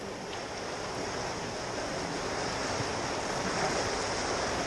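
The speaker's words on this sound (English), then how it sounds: "That's Bear Creek. It's one of the more fearsome crossings on the trail." Water rushes steadily at the Bear Creek crossing on a trail, a continuous close, broadband roar with no voices.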